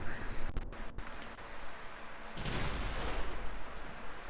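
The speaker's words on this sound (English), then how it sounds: "guns are opening up" Heavy cruiser main guns fire in the naval strategy game Ultimate Admiral Dreadnoughts, giving a few sharp reports near the start and then a long, rolling boom that settles into a rumbling wash.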